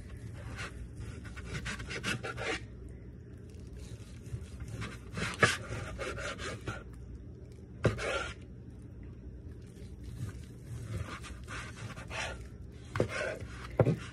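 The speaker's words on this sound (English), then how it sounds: "I am cutting up this turkey right now" Knife slicing through a roasted turkey breast on a board, with a series of soft, close cuts and scrapes spread irregularly across the stretch, with no talking.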